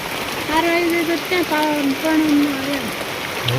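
Steady rain patters in the background while a person talks over it fairly close by.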